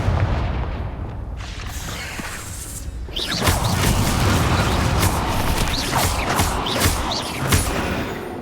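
A Confringo blast spell exploding during a trial in the Hogwarts Legacy game, a heavy booming impact followed by crackling, rumbling blasts and debris noise that stay loud for several seconds.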